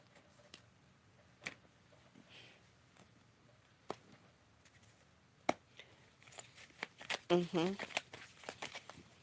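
Soft, scattered card snaps and taps are followed by a faster burst of riffling as a deck of cards is cut and shuffled close by. The sounds stay fairly quiet and come without accompanying talk.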